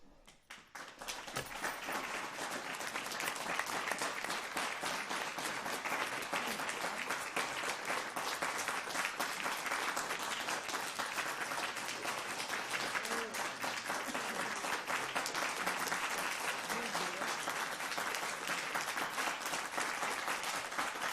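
Sustained applause from an audience at a school board meeting, dense steady clapping that rises quickly and holds for about twenty seconds without a break, moderately distant in a meeting room.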